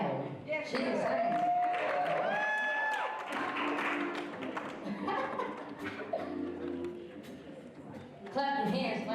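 An audience at a holiday special applauds and cheers for the background singers, a loud, steady wash of clapping mixed with voices and lingering sung tones, swelling again near the end.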